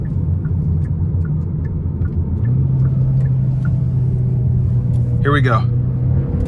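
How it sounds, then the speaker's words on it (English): A 2026 Hyundai Elantra N Line pulls onto the interstate, its engine droning steadily from inside the cabin and rising in pitch partway through, with someone talking over the steady rumble. "I'm gonna give it a quick pull getting on the interstate."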